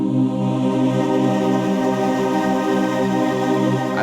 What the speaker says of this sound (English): we have air flex, which introduces this nice kind of octave above granular delay